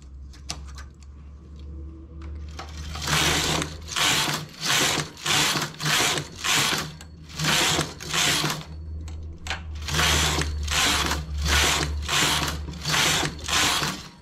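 Domestic knitting machine carriage knitting rows for a newborn baby mitten, a loud rhythmic series of rasping sweeps back and forth, about a dozen passes with a low motor hum underneath, close with no voices.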